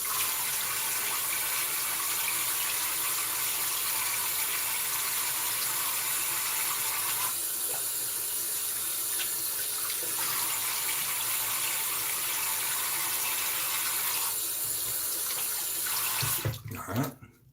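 Tap water runs steadily into a sink for rinsing after a wet shave, a continuous close splashing hiss that shifts slightly as hands move through the stream, then cuts off at the end.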